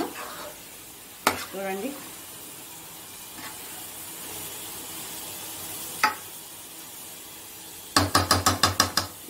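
Fish curry with spices and tamarind is stirred in a sizzling pan, with scattered scrapes and a quick run of rhythmic spoon knocks near the end; a voice speaks briefly.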